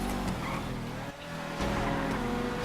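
Sultan car engine in a Grand Theft Auto race roars and revs in a short burst, a harsh, steady motor drone up close, dipping briefly before surging louder again.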